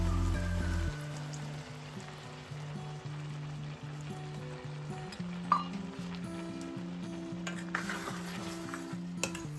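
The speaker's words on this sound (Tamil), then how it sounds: "இதோட கொஞ்சம் தேங்காய் பால் சேர்க்குறேன்." Coconut milk is stirred into squash avial in a pan, producing steady soft scraping and gentle sizzling with occasional light utensil knocks against the pan.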